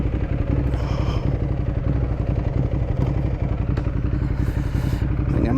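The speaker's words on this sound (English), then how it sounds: "Even just at idle you can hear it stuttering." Ducati Hypermotard 821 motorcycle idling in a workshop with a stuttering, uneven engine beat, loud and close, running steadily without talk.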